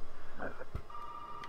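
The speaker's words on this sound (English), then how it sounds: "And of course the phone rings." A telephone rings in the video game Resident Evil 7, a thin electronic tone sounding steadily and fairly faint beneath a low, rhythmic throb and a brief thud.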